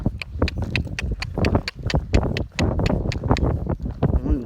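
Hooves of a ridden horse clip-clopping at a slow, steady walk, close and clear, with light wind buffeting the microphone and no talk.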